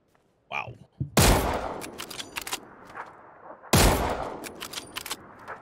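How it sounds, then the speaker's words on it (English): Gunfire in the battle royale game PUBG as a player shoots at the tires of an enemy buggy, with two loud close bursts of rapid shots and scattered single cracks between them, following a brief voice at the start. "I'm shooting at his buggy's tires right now."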